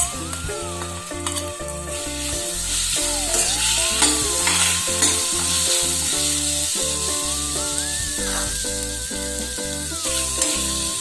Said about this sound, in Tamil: நெய் சூடான உடனே நம்ம எடுத்து வச்சுருக்கிற பலாப்பழம் அதில் போட்டுக்கோங்க